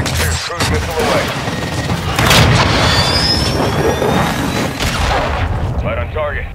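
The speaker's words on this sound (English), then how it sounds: "Trojan 6-2, cruise missile away." Cruise missile strike in Call of Duty Modern Warfare 2022 multiplayer, a loud sustained rumble and booming blast with jet-like roar, mixed with gunfire and radio voices.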